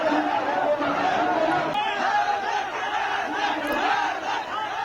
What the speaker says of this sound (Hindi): देखिए कैसे कितने सारे लोगों की भीड़ है और शहबाज की पुलिस को खदेड़ा जा रहा है